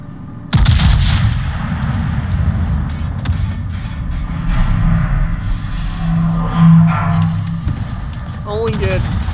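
Heavy battleship guns fire a salvo in a naval warfare video game, a loud broadband blast followed by sustained rumbling and a few further booms, with a voice talking over the barrage.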